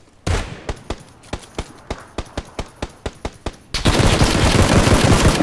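A rapid string of sharp gunshots in the video game PlayerUnknown's Battlegrounds, about a dozen evenly spaced bursts, then a sustained roar of heavy continuous gunfire filling the end.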